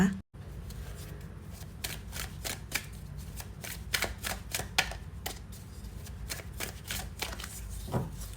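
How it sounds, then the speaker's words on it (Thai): Tarot cards being shuffled and picked, a run of crisp, close card clicks and flicks in an irregular rhythm, with faint talk at times underneath. "เดี๋ยวเลือกไพ่สักครู่นะคะ"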